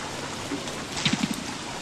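Spring rain in the video game Don't Starve makes a soft, steady patter of falling rain with a few distinct drops, heard alone and fairly quiet.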